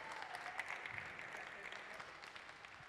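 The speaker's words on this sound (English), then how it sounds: "Let's give them one more round of applause for all their hard work today." An audience at a museum glassblowing demonstration applauds a visiting artist, with steady clapping held at a moderate, even level across the whole stretch and faint crowd murmur blended in underneath.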